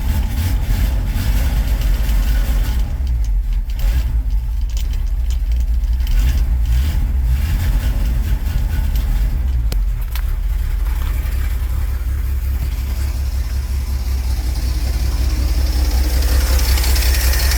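A 1986 Ford F-series pickup engine with a poorly running carburetor idles steadily, a loud, continuous low rumble that holds for the whole stretch with no talk.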